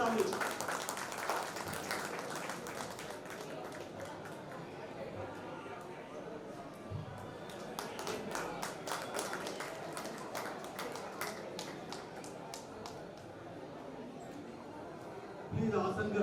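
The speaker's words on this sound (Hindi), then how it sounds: "जोरदार ताली" Guests at a community society gathering clap during an honouring ceremony, sparse and uneven at first, then swelling into brisk crackling applause in bursts, with murmured voices and chatter around it.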